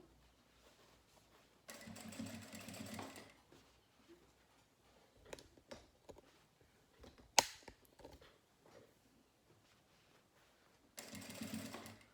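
A sewing machine stitches fabric in two short, steady bursts of rapid whirring, separated by quiet handling noises and a sharp click.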